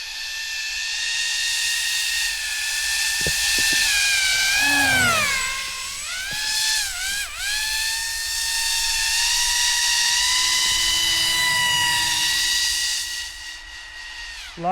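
A Pro Boat Aerotrooper RC airboat races across snow, its motor and propeller giving a loud, continuous high-pitched whine. The pitch sweeps down and back up as the throttle eases off and opens again.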